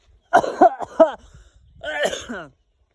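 A few quick, harsh coughs close to the mic, followed by someone speaking a short phrase.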